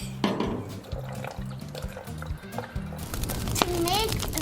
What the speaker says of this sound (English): Gonna open our bottle, and then we're gonna actually put the vinegar inside.